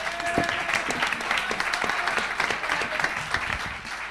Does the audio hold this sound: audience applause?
yes